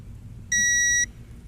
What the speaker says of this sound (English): I'm going to use a torque wrench right now